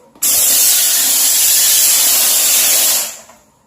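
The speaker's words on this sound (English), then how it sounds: "The steam cleaner is really effective on toilet seats." A HomeRight SteamMach steam cleaner jets steam onto a slightly dirty toilet seat, a loud, steady hiss that starts abruptly, holds for about three seconds and then fades out.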